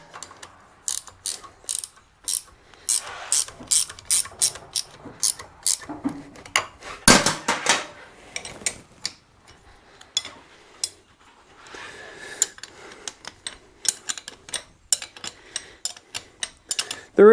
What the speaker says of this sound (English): We'll grab a 17 wrench.